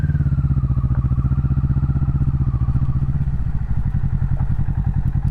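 A Kawasaki Vulcan S motorcycle engine thumps loudly and steadily at close range while the bike is slowly maneuvered into a parking spot, with a slight change in the engine beat about halfway through.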